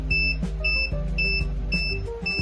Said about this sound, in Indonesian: jika proses pelarutan telah selesai, maka buzzer akan berbunyi sebagai indikator